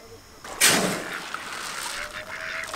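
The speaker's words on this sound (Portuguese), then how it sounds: "E tem uns 7 patos aqui dentro, hein?" Ducks at a lagoon during a cast-net fishing outing: one loud, harsh honking call up close, followed by quieter scattered calls against open outdoor ambience.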